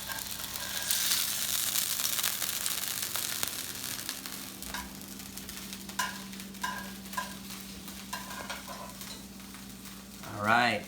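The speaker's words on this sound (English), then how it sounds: "You get a nice little sear on it, and they're steamed beautifully" Dumplings searing in a hot pan make a loud, steady sizzle that gradually eases, broken by scattered crackles and pops, with a brief louder burst near the end.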